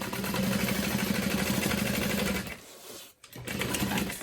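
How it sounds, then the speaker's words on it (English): A sewing machine runs steadily as it topstitches around the wide top opening of a fabric bag, pausing briefly near the end before starting again, loud and close with no voices. "And then I'm able to just kind of go in and top stitch through the top opening of the bag."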